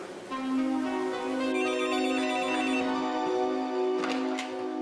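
An old-fashioned telephone bell rings steadily and loudly at a household residence, a continuous electronic trill that fills the whole moment with no talking over it.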